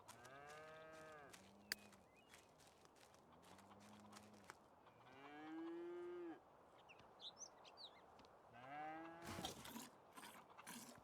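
Cattle moo on a farm in The Sims 3, several long, drawn-out lowing calls rising and falling over a steady outdoor background, with a few brief clicks and footstep-like sounds in between.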